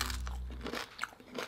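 Thick, hard homemade cereal flakes, similar to cornflakes, are chewed close to the mic, giving a series of loud, dry crunches and bites in an uneven rhythm.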